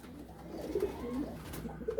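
Female pigeons cooing softly at a seller's loft in Faisalabad, a few low, throaty coos rising over a steady background hum, fairly faint and without talk.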